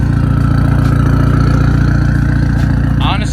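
A VW MK5 GTI with a full 3-inch straight pipe exhaust idles close by with a loud, steady, throbbing low rumble. A voice begins speaking at the very end.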